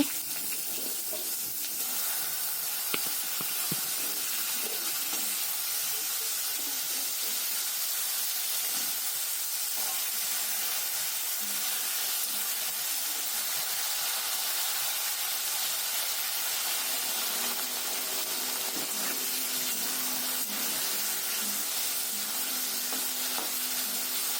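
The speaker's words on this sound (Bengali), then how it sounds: "এখানে আগে থেকে অল্প কুমড়ো আর দুটো আলু কেটে নিয়েছি ডুমো ডুমো করে সেগুলোকে দিচ্ছি" Diced pumpkin and potatoes fry in a pan for a vegetarian dish. A steady, hissing sizzle continues throughout with occasional faint clatter and a hum near the end. No voices.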